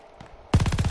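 An MG42 machine gun fires in Call of Duty Vanguard: after a short quiet lead-in, a loud, rapid burst of evenly spaced heavy shots rattles close by.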